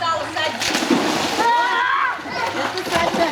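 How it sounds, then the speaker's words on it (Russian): A child jumps into water outdoors in a village, a churning splash and sloshing water heard close by while voices talk and call out throughout. "Уйдите, я прыгаю сзади."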